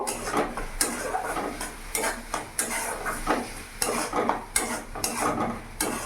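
Chilli and cumin powder being stirred into a pan over a medium gas flame, with a steady run of spoon scrapes and clinks against the metal pan and a soft sizzle underneath. No voices.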